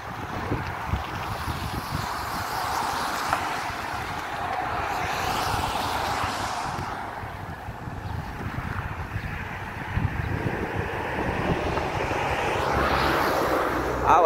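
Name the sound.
strong wind blowing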